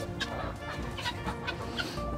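Quails in their pen stir and call, giving several short, chirping clucks over a steady rustling background at close range, with no one speaking.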